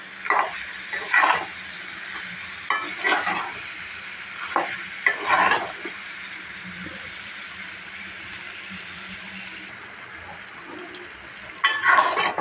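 Beef head meat and chickpea dal being sautéed in a pot produce a continuous sizzle. Bursts of stirring and scraping come in irregular clusters, then a quieter stretch follows before a last flurry of stirring. No one speaks.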